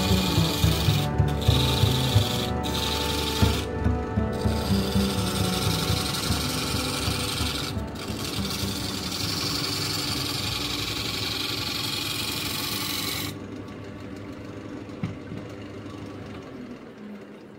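A wood lathe turns a leg for a coffee table. The workpiece spins with a steady, close motor hum while a tool rubs and rasps against the wood in repeated strokes, and the sound drops to a quieter whir near the end.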